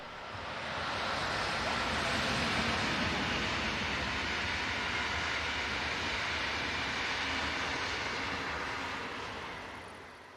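Hauled by locomotive 101035, the 1900 overnight train from München rumbles past, a steady broad roar of wheels and rail noise that swells in, holds for several seconds and then fades slightly.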